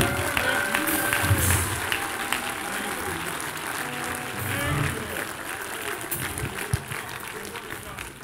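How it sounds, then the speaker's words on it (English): A church congregation claps and cheers through a preaching service, with sustained applause that swells loudly and fades a little toward the end while a voice carries faintly underneath. "Clap your hands for Jesus."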